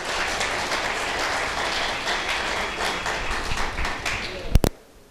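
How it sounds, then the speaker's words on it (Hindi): An audience at a Hindi poetry gathering claps in a broad, sustained wash that ends with a couple of sharp knocks before cutting off. "तो एक बार बुलडोजर के लिए बुलडोजर वाली तालियां बजा दो आप।"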